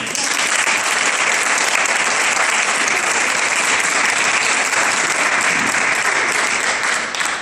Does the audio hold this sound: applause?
yes